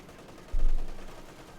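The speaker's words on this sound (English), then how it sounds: "Shot bounced off the Panzer IV's frontal armor." Tank cannon fire in the strategy game Company of Heroes 2, a shot bouncing off a Panzer IV's frontal armor: a single loud, deep boom that swells and fades over about a second, with no voices.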